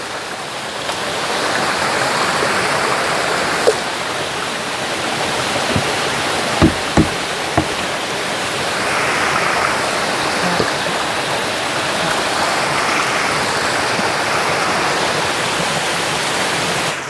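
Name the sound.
forest stream flowing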